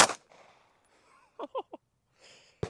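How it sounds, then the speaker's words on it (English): A self-defense handgun round fired into meat for a penetration test: a sharp report at the start, a few short clanks mid-clip, and a second sharp shot at the end, close with quiet gaps between. "Firing self-defense."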